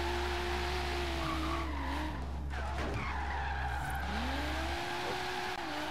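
Tires skid and squeal as a car slides around a parking lot in the racing game Forza Horizon 3, a loud sustained engine drone with wavering screeching tones rising and falling throughout.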